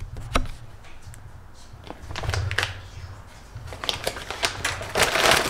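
A package of activated carbon face masks is torn and unwrapped, giving crinkly plastic rustles and sharp tapping clicks in irregular bursts close by, with a low hum underneath and no talk.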